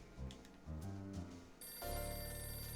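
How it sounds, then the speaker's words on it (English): A telephone rings in the video game Last Window: The Secret of Cape West. After a quiet stretch of faint sounds, a bright, sustained electronic ring starts partway through and carries on steadily to the end. "It's the phone again."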